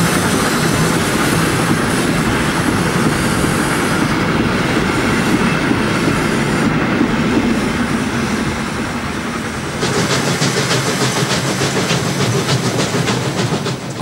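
DB class 064 steam tank locomotive 064-295 departs Weiden station toward Bayreuth hauling a rake of three- and four-axle rebuilt passenger coaches, a loud continuous rumble of wheels and machinery that shifts to a brighter rolling clatter as cars pass.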